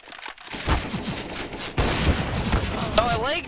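Rapid bursts of gunfire from a CSGO competitive match, several sharp shots spread across a few seconds, loud and close amid game noise, with faint voices of players chatting underneath.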